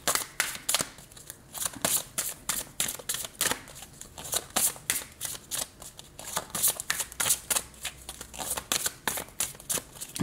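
Tarot cards shuffled by hand in rapid, repeated riffling bursts, close and crisp, with short pauses between rounds and no talking.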